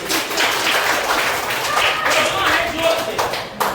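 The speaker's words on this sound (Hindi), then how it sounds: "चलो ताली बजाओ इसके लिए" Children clap together in a classroom during a counting lesson, a dense burst of many small hands tapping steadily for a few seconds, close and lively.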